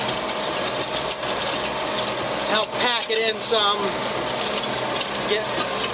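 Ford 7710 tractor pulling an Allis Chalmers disk through a field, a steady low engine drone running underneath someone speaking briefly in the middle.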